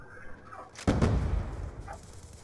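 A sudden burst of gunfire in Call of Duty Black Ops 2 erupts after a quiet stretch, sharp cracks blending into a dense, booming rumble, with a softer shot trailing after.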